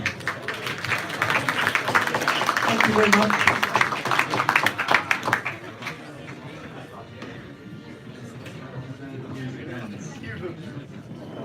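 An audience at a Docker tech meetup in London applauds before a talk, a burst of close clapping that fades after about five seconds, followed by quieter room noise and someone speaking briefly.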